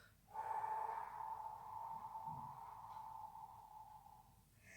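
A long, steady exhaled breath during yoga, airy and sustained for several seconds before fading out.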